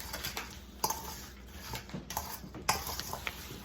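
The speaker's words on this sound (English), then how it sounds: "And then we just stir these around very lightly." Light stirring of apple cake ingredients in a bowl, a few soft clinks and taps of utensil against the bowl, scattered and faint, close by.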